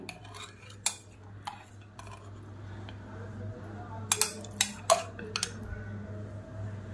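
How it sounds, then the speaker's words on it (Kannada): A metal spoon clinks a few times against a bowl while powder for a cooling homemade drink is scooped in. The light taps are scattered and sit over a steady low background hum. "ಫಸ್ಟು ನಾನು ಇದನ್ನು 1-2 ಸ್ಪೂನು ಒಂದು ಬೌಲ್ಗೆ ಹಾಕ್ಕೊತೀನಿ"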